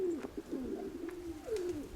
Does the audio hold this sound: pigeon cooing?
yes